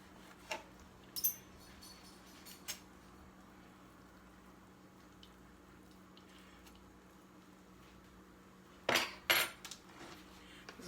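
A knife and fork clink against a dish while slicing slow-cooker pot roast, a few sharp metallic taps early and a louder cluster near the end over a quiet kitchen hum.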